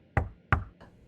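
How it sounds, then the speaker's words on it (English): Knocking on a door for a spooky story, two sharp loud raps in a row followed by a fainter third tap, close and clear with no voice. "But then came the knock."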